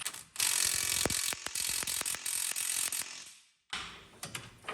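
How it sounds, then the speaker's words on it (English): Ratcheting wrench loosening power steering box bolts on a Buick, a busy run of clicking pawl ticks and metallic clanks close up, pausing briefly before resuming. "Now I can take out the bolts for the power steering box."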